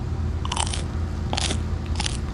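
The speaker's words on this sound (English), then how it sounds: "Tattooed Granny about to taste deliciousness." Three crisp crunching bites into morel mushrooms fried in butter with salt, pepper, paprika, garlic and onion, close and spaced about a second apart, with no talk.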